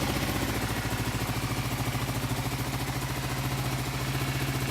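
Kawasaki KLR motorcycle engine idling as it warms up, a close, even, rapid thumping pulse that holds steady for the whole stretch with no revving.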